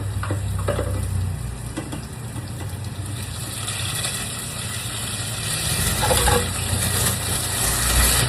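Onion and garlic frying in healthy oil in a pan, a steady broadband sizzle throughout with a low hum underneath, fairly close and continuous, no voices.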